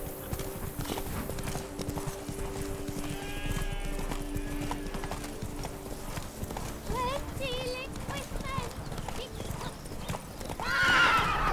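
In The Witcher 3: Wild Hunt, the horse gallops with rapid rhythmic hoofbeats and lets out several whinnies and snorts, while characters talk over the action.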